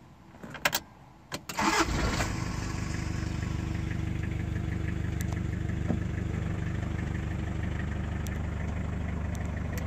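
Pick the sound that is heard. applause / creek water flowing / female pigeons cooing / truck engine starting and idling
truck engine starting and idling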